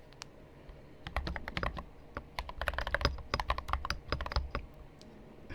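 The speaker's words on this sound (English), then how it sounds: "let's start by typing." Close, quiet keyboard typing runs in irregular bursts of clicky keystrokes, alone with no voice over it.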